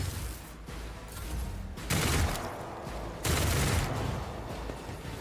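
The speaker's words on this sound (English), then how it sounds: "They're shooting people." Gunfire in the Warhammer 40k Rogue Trader video game, heard as two loud, noisy volleys that burst in abruptly and hang in the air, over a steady rumbling background.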